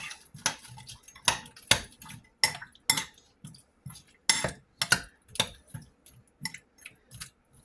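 A spoon stirs a homemade cucumber and onion salad in a bowl, giving a steady run of close, crisp clinks and scrapes about twice a second against the bowl, with no talking.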